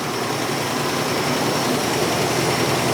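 A long-dormant Plymouth Barracuda engine holds a steady, even high idle around 1,200 RPM, a dense continuous rumble and roar heard up close in an enclosed space with no talk.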